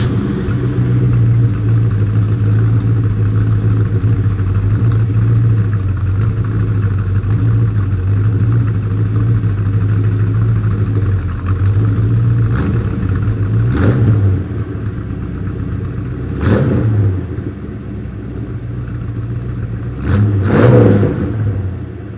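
A Ford Torino's engine catches and settles into a steady, rumbling idle up close, then gives a few sharp revs later on that rise and fall back, with no talking over it.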